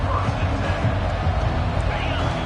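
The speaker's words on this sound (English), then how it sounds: "This crowd bringing an ear-splitting welcome to their visitors" Stadium crowd in the college football game NCAA 25, a steady loud roar and babble of many voices filling the whole stretch with no breaks.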